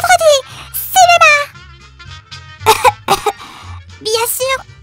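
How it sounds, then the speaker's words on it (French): A short burst of coughing comes in the middle of lively, high-pitched cartoon-style voices talking back and forth. "Tu viens de tousser?"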